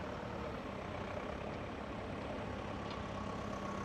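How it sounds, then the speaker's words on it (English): Fendt Farmer 309 LS Turbomatic tractor running with a two-furrow Kverneland plough on the back: a faint, steady, low diesel rumble under broad noise, with no talking. "Here we've got a lovely FENDT Farmer 309 LS Turbomatic."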